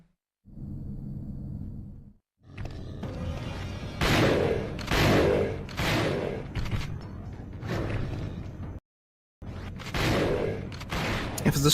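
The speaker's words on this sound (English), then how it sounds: "He can go ahead and use the shotgun for the last two bosses." Shotgun blasts in the survival-horror game Resident Evil: Dead Aim ring out as loud, repeated bursts with metallic creaks of reloading and pumping between them, broken by short silent gaps.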